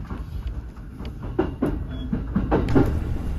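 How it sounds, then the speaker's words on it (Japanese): A Chuo Line train bound for Musashi-Itsukaichi pulls away, its rumbling rolling noise steady throughout with a few soft rhythmic wheel clacks, close and moderately loud with no voices. "離れゆく武蔵五日市行き、今まで一緒にいましたがさようならという感じです。"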